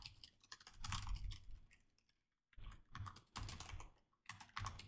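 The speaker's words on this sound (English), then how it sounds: "And type away in my DOCX editor." Typing on a computer keyboard into a DOCX editor, with dense runs of close, crisp key clicks broken by a brief pause and no talking.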